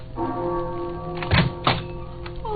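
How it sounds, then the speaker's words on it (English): Doorbell sound effect from an old-time detective radio drama, a single ringing chime with a dull thunk, its tone sustaining and fading briefly over faint background. "But I rang the bell."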